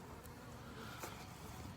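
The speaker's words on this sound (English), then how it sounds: "bees are out flying and look real active" Honey bees fly around their hives outdoors on a mild day, a dense, continuous buzzing swarm close to the microphone with a few individual bees passing nearer.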